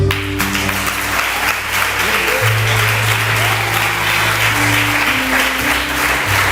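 Congregation in a church applauds, a dense, steady wash of many hands clapping together under a sustained low organ or keyboard chord.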